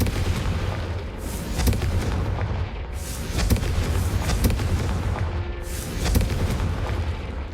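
In the Hogwarts Legacy video game, the Confringo fire spell goes off in a string of heavy booming blasts with rumbling tails. The blasts come about every second or two and stay loud and close throughout.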